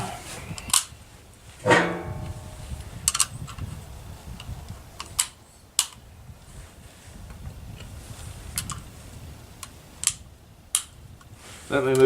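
Rounds are loaded one by one into an AR15 magazine, giving a handful of sharp, separate metallic clicks and snaps with quiet gaps between them, close by and fairly faint.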